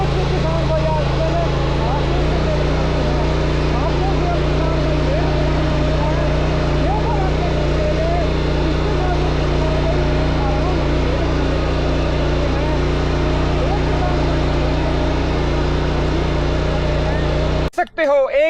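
A mini power tiller works a farm field, forming soil ridges, its small engine droning steadily and loudly throughout with constant low harmonics, a brief clatter near the end.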